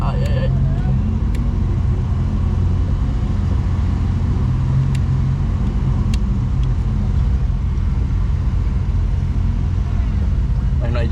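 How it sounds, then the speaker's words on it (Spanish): A Trooper 4x4 strains to tow a Toyota along a muddy off-road trail, a steady low engine rumble running throughout with people talking over it. "Hay un trooper jalando la Toyota."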